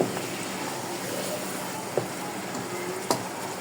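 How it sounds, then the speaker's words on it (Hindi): Mutton sizzles and fries steadily in a pot for arvi gosht, a constant close hiss broken by two light clinks of a spoon against the metal, while a voice talks over it. "गोश्त हमारा डल गया है, अब वो भुनेगा।"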